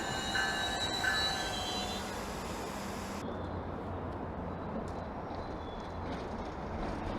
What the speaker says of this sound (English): I just snapped a few pics of that train as it was rolling out.